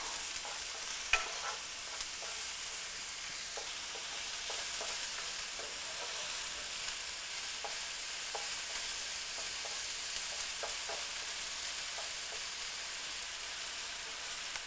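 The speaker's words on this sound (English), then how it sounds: "I'm going to give that a stir, and we're going to just let these brown and it'll just soften a little." Onions sizzle steadily in a hot pan while being stirred, with scattered soft scrapes and clicks over a continuous frying hiss; no voices.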